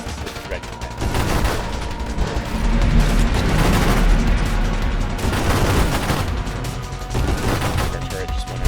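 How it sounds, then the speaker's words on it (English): Rapid, dense gunfire from a spaceship's weapons in the Nova Drift space shooter game, running loud and continuous throughout amid a busy battle with a boss, with booming impacts layered over a thick game soundtrack. "Our gunshots are bigger."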